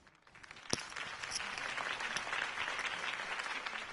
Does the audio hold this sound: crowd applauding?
yes